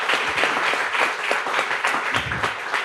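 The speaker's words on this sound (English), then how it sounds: "Let's give them a round of applause here." Audience applause for panelists at a presentation on chronic school absenteeism: steady, dense clapping from a crowd, fairly close and sustained throughout, with no speech over it.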